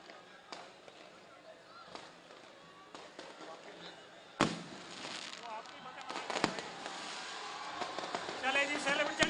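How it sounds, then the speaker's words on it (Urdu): Fireworks at a large outdoor political rally in Karachi crack and pop in scattered bursts that grow denser and louder toward the end, over crowd noise and someone speaking through amplification. "یہ جو دوست آتش بازی کر رہے ہیں برائے مہربانی نہ کریں، آتش بازی کا منع کیا گیا ہے"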